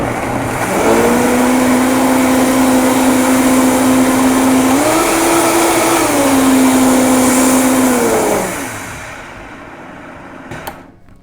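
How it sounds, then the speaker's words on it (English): Blender whirring through about a pint of berries for a tube-feeding recipe, a loud steady motor hum that shifts pitch slightly midway, running about eight seconds before winding down to quiet. "And then I'm going to blend those up."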